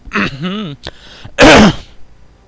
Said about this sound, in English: Need to clear my throat a bit.